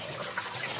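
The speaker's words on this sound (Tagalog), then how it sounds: "Ay pinag-agas ang tubig." Water runs and splashes steadily at close range during a cooking setup, a continuous hiss with no break and no voices.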